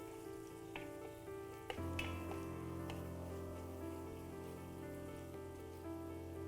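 Onions sautéing in a pan over a medium flame, a steady, close hiss and sizzle throughout with a brief stir or clank partway through, no talking.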